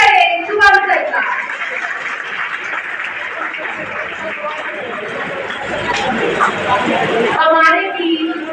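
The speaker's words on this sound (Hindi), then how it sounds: "एक बार जोरदार तालियां से स्वागत करें शुभम सर का" A seminar audience at a library in Madhupur, Jharkhand, breaks into a sustained round of applause to welcome a speaker, steady and fairly close, with murmuring voices and brief talk at the start and end.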